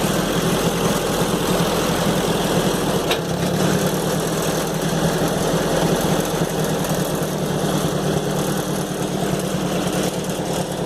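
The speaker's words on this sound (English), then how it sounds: "Then we just hop on the tractor and back away." A Ford 900 series tractor engine runs steadily at a low, throbbing idle, loud and close for the whole stretch as the tractor backs away, with a brief clunk partway through and no talk.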